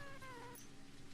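A house cat gives one short, rising meow with clear tonal harmonics, near and fairly quiet, ending within about half a second over low room noise.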